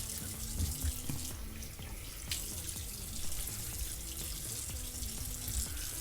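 Water runs steadily from a bathroom sink tap, a continuous close splashing hiss that holds for the whole stretch.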